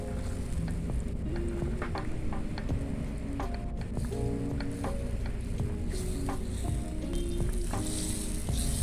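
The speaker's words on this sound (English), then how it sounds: "Now that the butter has melted completely" Melted butter sizzles steadily in a hot pan, a continuous dense crackle with small pops throughout and no voices.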